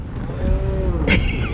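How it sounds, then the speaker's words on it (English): Cows roaming freely on a road in Norway, one low moo rising and falling over about a second, followed by a short brighter vocal burst, all against steady outdoor background noise. "like these cows"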